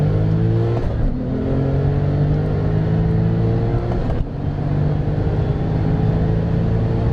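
A modified Porsche 997 Turbo of about 600 horsepower roars loud and close, its engine revving and pulling hard through rising tones, with a brief dip around each gear change.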